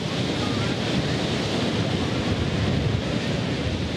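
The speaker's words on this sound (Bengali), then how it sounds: "গুড়ি গুড়ি বৃষ্টির সঙ্গে বইছে ঝড়ো হাওয়া" Strong, steady stormy wind roars and buffets the microphone in a continuous low rumble, with no pauses and no voices, during a cyclone with light drizzle.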